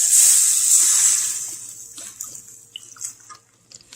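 Red wine poured into a hot pan to deglaze while making beef stock, a loud bright sizzling hiss that fades over a couple of seconds into faint bubbling and crackles.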